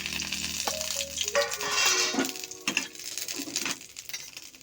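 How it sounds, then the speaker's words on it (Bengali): Whole garam masala spices dropped into hot oil for a rohu fish ball kalia, crackling and sizzling loudly up close, with a few clinks and spoon scrapes as they fry. "একই তেলের মধ্যে আমি দিয়ে দেব গরম মশলাটা"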